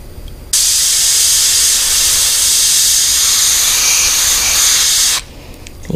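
A spray paint can hisses through a stencil at a holiday spray paint art session, one steady, close, unbroken burst of about four and a half seconds with no talk.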